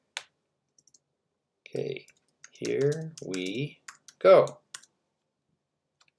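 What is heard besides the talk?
typing a message on a computer keyboard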